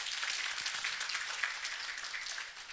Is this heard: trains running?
no